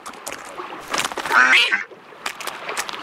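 Duck quacks in a children's story: a burst of several nasal quacks mid-clip, loud and close, followed by softer scattered calls, with no talking.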